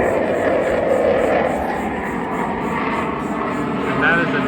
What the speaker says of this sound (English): and that is a jet. There's an Air Force base not too far from here.